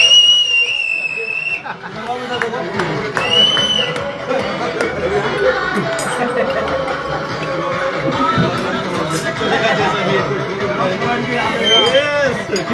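Celebration crowd: several shrill whistles ring out early on, then lively chatter and cheering from many people fill the room, with voices talking loudly throughout.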